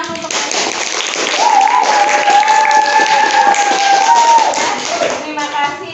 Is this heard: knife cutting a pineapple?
no